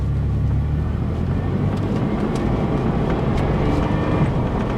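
A 2005 Chevy Blazer driving along, steady loud engine and road rumble with faint shifts of engine note as the transmission changes gears, no speech.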